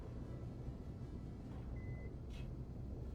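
One short, thin electronic beep sounds faintly in a spaceship video game, over a constant low engine rumble.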